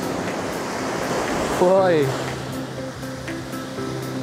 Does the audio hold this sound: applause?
no